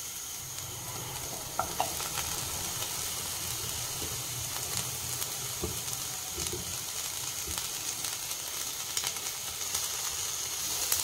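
Onions fry in a pan for mushroom masala, a soft, even sizzle with occasional stirring scrapes and light clicks, close but quiet and steady throughout.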